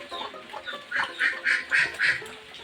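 Ducks quacking in a farmyard on a rainy day, a run of five or six loud, evenly spaced quacks close by over a low rustling background.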